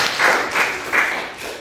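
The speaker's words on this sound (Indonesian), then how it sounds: "kasih aplaus dulu kepada teman-temannya" Students in a classroom applaud their classmates, a short burst of clapping with a few rising swells of hands, moderately close and without talk.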